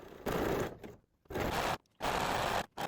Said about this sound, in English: I'm doing a zigzag stitch over my previous straight stitch